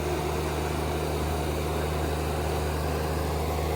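Chinese-made 2.5-ton mini excavator running at full speed: a steady, unbroken engine drone with a low hum and hiss, close by and without talk.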